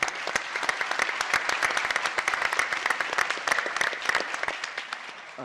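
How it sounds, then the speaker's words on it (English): A sustainability summit audience gives a round of applause, dense and lively clapping from many hands, close and sustained, easing slightly at the end with no speech over it. "Let's give them a round of applause"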